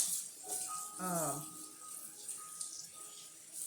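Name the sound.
tap water filling a sink to wash collard greens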